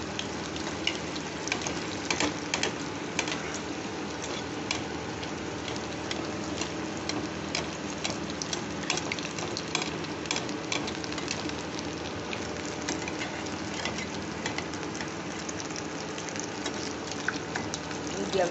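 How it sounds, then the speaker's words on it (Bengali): Fish fries deep-frying in oil in a wok over medium heat, a dense, continuous crackling sizzle with small pops, steady and close throughout. "এই তেলে আমি এখন এই মিডিয়াম হিটে আমি এই ফিশ ফ্রাইগুলো ভেজে নেব"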